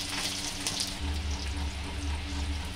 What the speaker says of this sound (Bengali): দেখুন এটা আমি ফ্রাই করতে দিলাম